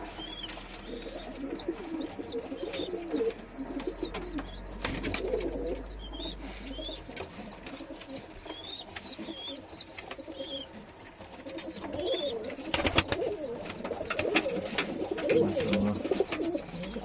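Pigeons cooing steadily inside a breeding coop, several birds calling in overlapping soft murmurs over a continuous background of rustling and chirps, close and moderately loud throughout with no talk.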